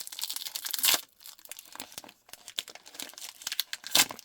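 A foil trading card pack, an 1800s Pieces of the Past relic pack, is torn open by hand. Loud, close crinkling comes in two bursts with sharp rips, and softer rustling runs between them. Nobody speaks.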